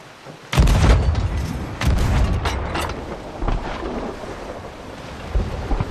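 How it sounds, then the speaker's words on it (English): A bunder bomb exploding in the pirate game Sea of Thieves, a sudden deep booming blast followed by a second heavy burst and rumbling, crackling aftershocks that fade slowly. "Why is it called a bunder bomb, mate?"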